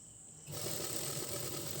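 A sewing machine runs steadily, stitching around the inner lining of a blouse. It starts abruptly after a quiet moment and keeps a fine, continuous whir, with no talk.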